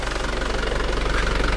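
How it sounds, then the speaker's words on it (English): Holden Isuzu Rodeo engine running with a lack-of-power fault, a loud, close, even mechanical drone with a fast steady pulsing, brief and without voices. "It's so responsive, it revs pretty fluent"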